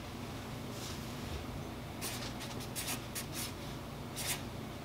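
Pen or pencil writing by hand, a series of faint, quick scratchy strokes in short bursts over a steady low background hum, close to the microphone.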